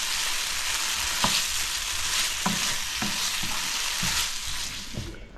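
Wild goat curry with milk and spices is stirred in a pan, a constant close sizzle broken by several scraping strokes of a spoon against the pan at a slow, irregular pace.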